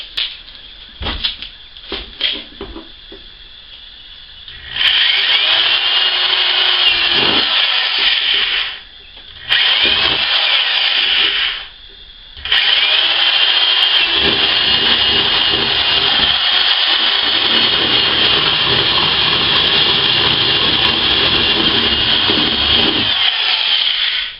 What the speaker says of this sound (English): I'm going to try to do it with my jigsaw